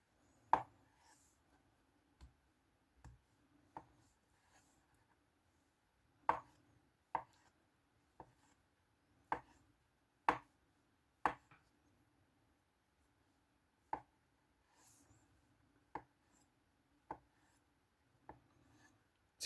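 Sharp knife strokes from a Shooziz pchak blade cutting food on a board, sliced with the belly near the tip, a steady run of crisp, close taps spaced about a second apart, some louder than others, with no talking.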